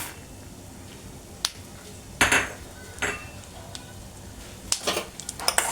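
Spoon scraping and clinking against a frying pan while peanuts and chana dal are stirred, a few sharp metallic knocks spread unevenly among soft shuffling, fairly quiet with nothing else heard.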